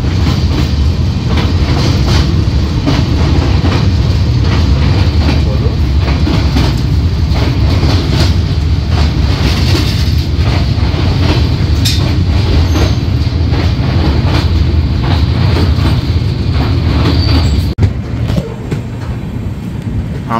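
The 12378 Padatik Express runs on rails from New Alipurduar toward Sealdah, heard from inside a 3AC coach: a loud, steady rumble with rhythmic wheel clatter and faint squeals throughout, easing slightly at the end.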